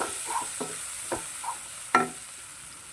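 One medium onion, thinly sliced, sautés in a pan for fish molee: a faint, steady sizzle with a few soft stirring scrapes and taps, quiet and close, no voices.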